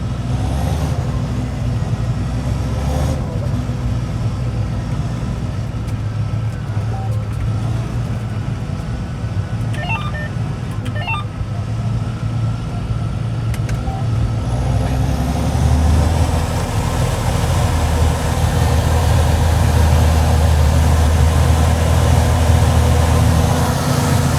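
A John Deere 7430 Premium tractor's diesel engine runs steadily with a deep, continuous rumble, fairly loud and close, growing slightly heavier toward the end. No one speaks.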